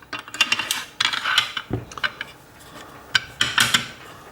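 A rifle bolt sliding into a Tikka T3 chassis gives a run of close metallic clicks and light rattling taps, with short pauses between bursts.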